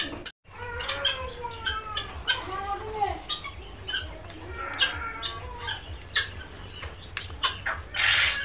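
Small quails on a quail farm in Jamalpur, Bakshiganj, giving repeated chirps and short calls at a moderate distance, with light fluttering and rustling among them.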